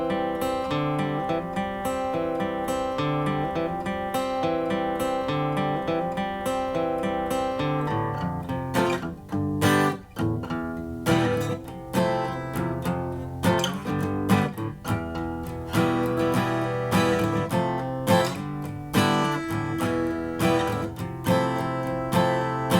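Acoustic guitar playing chord progressions from Time After Time in the Eva Cassidy version, steady strummed and picked chords continuing throughout at close range, with no voices.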